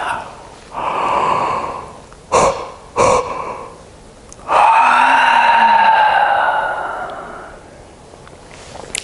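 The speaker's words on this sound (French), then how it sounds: "Inspirez, expirez, baillez." Slow, deliberate breaths drawn in and let out, followed by a long open yawn, heard up close and loud with nobody talking, as in a guided relaxation exercise.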